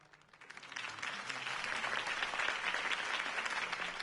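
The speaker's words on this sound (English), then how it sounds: "could have heard that applause" Crowd applause after a campaign speech for Harvey Dent, swelling from a light start into steady, dense clapping that fills the whole stretch.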